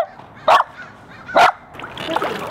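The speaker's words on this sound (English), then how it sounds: "Our new scuba dog, Kiara." A dog barks twice, loud and close, with a pause between the barks, over low background noise and faint splashing on a river during scuba diving.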